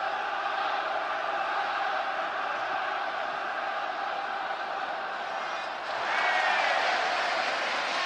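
A 72,000-strong stadium crowd at a Schalke 04 versus Bayern München DFB-Pokal semifinal applauds the goalkeeper, a dense, steady roar of clapping that swells louder toward the end.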